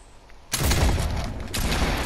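A gunshot in a first-person shooter video game rings out suddenly as a single loud burst, followed by a sustained noisy rumble and a second, weaker crack about a second later, with no talking.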